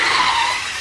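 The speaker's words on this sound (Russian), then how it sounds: "пищит. Это охлаждение в моей машине. Вентилятор стоит там." Squealing from a car's cooling fan, a steady high-pitched whine with a hissing edge, loud and close, holding level and then easing slightly.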